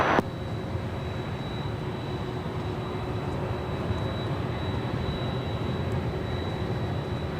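A jet airliner at LAX near runway 24 gives off a loud, steady broadband roar with a faint high whine, continuous for several seconds, with no voices.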